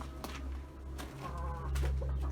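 Chickens in an organic coop cluck and murmur continuously at close range, with a low steady hum underneath and a few sharper calls rising out of the flock.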